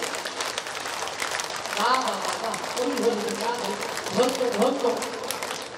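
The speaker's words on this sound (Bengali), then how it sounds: "আচ্ছা, এবার একটু হাতে তালি দিতে পারবেন?" Audience at a Hindu kirtan gathering clapping hands together, a dense, steady patter of many claps running throughout with singing and talking voices layered over it.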